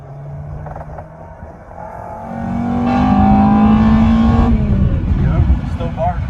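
Acura RSX with a swapped K20A2 engine and manual conversion drives off, the engine note climbing steadily to a loud, raspy rev before easing back, with a person talking in the cabin.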